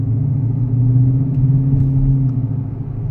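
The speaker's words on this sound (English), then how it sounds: "Listen to that engine." A muscle car's loud, low engine rumble holds steady at close range in Miami traffic, a thick burbling idle with a slight swell in the middle.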